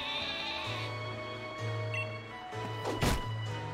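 A sheep bleats in a video game, a sustained wavering cry under music and background game sound, followed by a short louder burst near the end.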